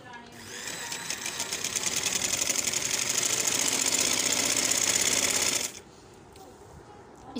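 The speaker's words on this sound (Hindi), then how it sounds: "इनके ऊपर सिलाई लगा लेंगे नीचे से कपड़े को फोल्ड करके" Sewing machine running steadily while stitching a folded cloth hem on a bell-bottom trouser, a rapid even mechanical chatter for about five seconds that stops abruptly, with quieter room sound after.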